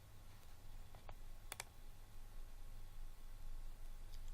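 A few crisp mouse clicks, faint and close, sound over a quiet background hum while saving KPIs in a strategic management web application.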